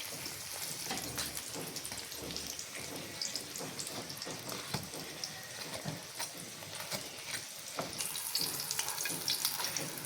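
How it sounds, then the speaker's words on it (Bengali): Mughlai paratha frying in oil in a kadai, a continuous crackling sizzle throughout, fairly close and steady with small bursts of spattering. "এবার আম্মু পরোটাকে উল্টে সেটার মধ্যে কিছু পরিমাণে তেল দিয়ে দিচ্ছে।"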